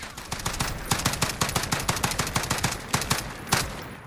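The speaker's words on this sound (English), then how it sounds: "Now what our max rate of fire is going to look like" Rapid gunfire from a DSA-58 rifle in the Call of Duty Modern Warfare video game, with sharp, closely spaced shots fired as fast as possible in a steady, near-continuous burst and no voices.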